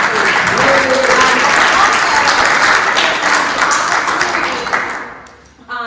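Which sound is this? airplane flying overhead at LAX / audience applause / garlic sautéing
audience applause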